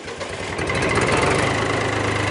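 A heavy International tractor engine catches and rises into a loud, steady rumbling idle with a knocking throb, close by.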